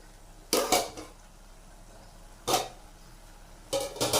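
A metal lid lifts off a covered pot of coconut-oil curry paste that has been steaming, giving three short clanking knocks of metal on metal close by, with quiet pauses between them.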